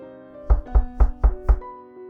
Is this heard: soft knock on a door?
yes